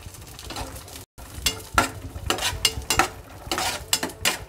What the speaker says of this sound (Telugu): బాగా ఫ్రై అయ్యేలాగా వేయించుకోవాలి